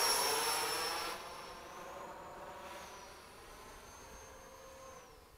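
An E-flite 80mm F/A-18D electric ducted-fan RC jet comes in to land, its high whooshing whine loudest at first and then fading and settling into a softer, steady hiss.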